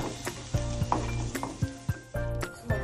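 Ingredients for paneer masala fry in a pan with a steady sizzle, while a utensil stirs and clinks against the metal in repeated sharp taps close by.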